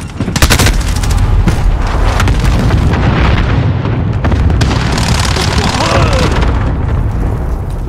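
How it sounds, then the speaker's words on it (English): Call of Duty: Modern Warfare cluster strike detonations pound in a dense, continuous barrage of loud booms and crackling blasts mixed with nearby gunfire, sustained close and heavy from start to finish. "Allied cluster strike incoming."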